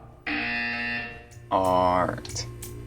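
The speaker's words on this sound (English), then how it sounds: "You will hear a buzzer." A harsh electronic buzzer from the video game Portal 2 sounds once for under a second, then a voice speaks briefly.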